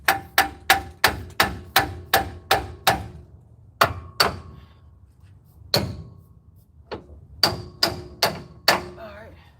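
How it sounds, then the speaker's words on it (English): Sharp metal hammer blows on the front suspension of a 1997 Chevy during an upper control arm rebuild, a rapid even run of about eight strikes, then scattered single hits and a final quick burst, loud and close. "Use my hammer."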